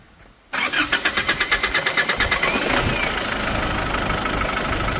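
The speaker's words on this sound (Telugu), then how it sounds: "ఒకసారి స్టార్ట్ చేసి ఇంజిన్ సౌండ్ ఎలా ఉంది ఏంటి అన్నది అయితే మీరు ఒకసారి గమనించవచ్చు" A 2017 Isuzu D-Max pickup truck engine cranks with a rapid rhythmic chugging from the starter, catches, and settles into a steady running rumble, close by.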